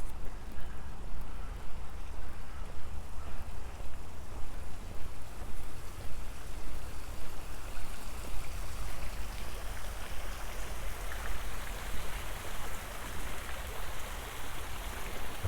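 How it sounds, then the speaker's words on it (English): Water splashes steadily from the Trafalgar Fountain in Regina, dolphin spouts feeding it, as a dense continuous patter on a cool morning by the lake. "But this is the Trafalgar Fountain proper."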